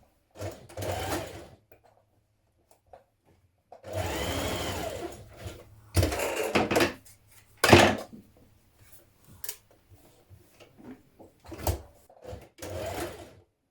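Sewing machine stitching the shoulder and side seams of a children's dress with a 1.5 cm seam allowance, running in short separate bursts with quiet pauses between them, close and clear.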